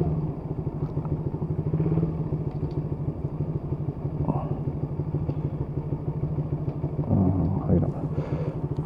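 A Loncin 125 motorcycle engine idles nearby in a steady, rapid thumping putter, with a brief revving surge partway through, while a voice talks over it.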